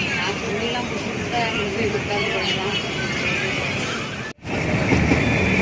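Passenger train on an Indian rail journey, a continuous rumbling roar of wheels on track with faint murmuring voices in the carriage and a brief sharp dropout near the end.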